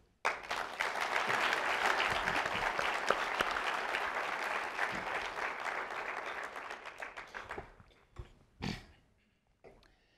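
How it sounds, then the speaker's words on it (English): Audience applause at a university State of the University address, a sustained burst of clapping from a large crowd that gradually thins out and ends in a few scattered claps. "So please join me in applauding all of those individuals who are involved in this"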